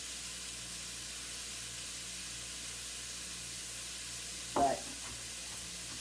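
Garlic and onions frying in a pan give a faint, steady sizzle and hiss with a brief clatter partway through, while a voice speaks briefly.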